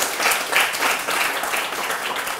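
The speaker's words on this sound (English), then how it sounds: "So let's give this a round of applause," An audience at a social entrepreneurship presentation gives a round of applause, with dense, lively clapping in slightly pulsing waves, close and fairly loud for the whole stretch.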